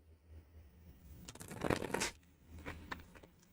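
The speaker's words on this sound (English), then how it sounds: "these cards need shuffling big time" Tarot deck being shuffled by hand, quiet riffling and sliding of cards in a soft burst of rapid flutters, followed by lighter patters of card handling, close but faint.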